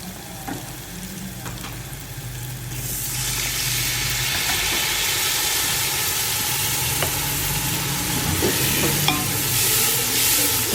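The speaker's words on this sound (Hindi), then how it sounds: "अब थोड़ा सा पानी डालेंगे।" Water poured into frying nihari masala in a pan for beef nalli nihari, with steady sizzling rising louder after a few seconds and spoon stirring scrapes throughout, no voices.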